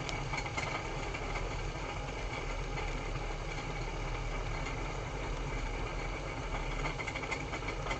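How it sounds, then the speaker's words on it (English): A Bosworth Midi spinning wheel with a nearly full bobbin keeps up a steady, close rattling whir, a continuous mechanical drone with fine rapid vibration and no talk. "My bobbin is coming to an end, that's why it's rattling so much"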